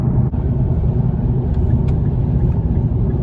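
Infiniti Q70L V8 sedan accelerating up to 65 mph on the highway, a loud continuous low engine rumble and road noise from inside the cabin, fairly steady with no talk.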